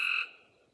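A single brief frog call, a bright, tonal chirp-like croak that holds for a fraction of a second and then fades into quiet, heard alone without any talking.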